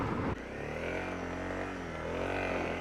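A Honda CRF250L motorcycle engine drones steadily through a ride at around 60, with a brief louder burst at the start settling into a continuous, close hum.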